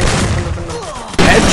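A video game gunshot lands a headshot with a sharp, loud crack and a burst that cuts in near the end, over a busy game mix while a voice talks.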